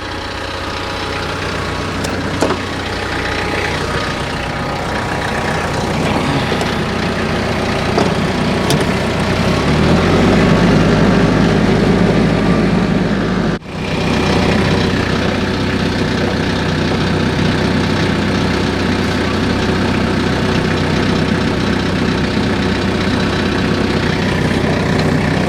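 A tractor engine idles steadily and loudly close by, a continuous low rumble with a brief dip in the middle, while a quick attach is fitted for a PTO-driven firewood processor.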